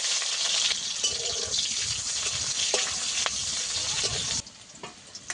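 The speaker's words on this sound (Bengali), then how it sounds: "কেটে রাখা পেঁয়াজ দিয়ে দেবো।" Chopped onion hits hot oil with five-spice seeds, giving a loud, bright, close sizzle with stirring scrapes and clinks, which drops sharply near the end to a quieter hiss.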